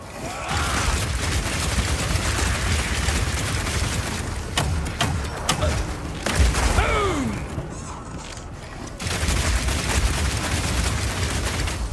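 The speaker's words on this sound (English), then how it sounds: "shoot out a bunch of grenades, and then start the fireworks with a Power Shot." Crossbow grenade blasts and Power Shot explosions in the Path of Exile 2 video game form a dense, loud barrage of booms and rapid-fire bursts that runs almost continuously throughout.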